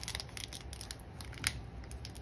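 Scissors snip through the wrappers of One Piece trading card packs, with a quick run of crisp, close cuts and crinkles and one sharper snip near the end, with no talking.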